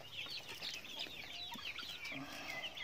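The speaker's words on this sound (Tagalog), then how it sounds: "Sa ngayon, meron akong mga Rhode Island na mga sisiu dito," Many Rhode Island chicks peeping at once, a busy chorus of high, rapid chirps layered over each other, close and continuous.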